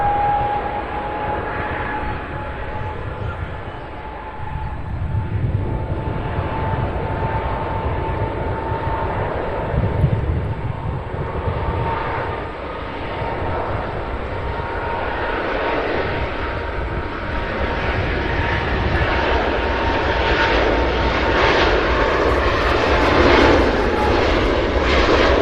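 A Delta airplane takes off at Cincinnati's CVG airport with a loud, sustained engine roar and whine that swells slightly toward the end, and no voices can be heard.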